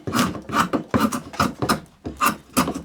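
A draw knife shaves a wooden handle bevel down, cutting in six or seven quick rasping strokes, close and evenly spaced, each with a short scraping swish.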